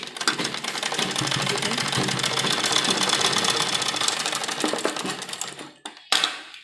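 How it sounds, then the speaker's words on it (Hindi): A sewing machine stitches a lined embroidered sleeve seam, running in a steady close rapid whir for about six seconds before stopping briefly and starting again. "बीच से हम सिलाई निकाल देंगे"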